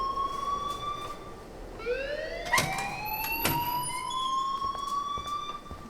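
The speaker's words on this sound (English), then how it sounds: "please turn off that alarm since that's your job" Electronic alarm from Life is Strange, a rising siren-like wail that sweeps upward and holds steady under a constant background hum, with no talk.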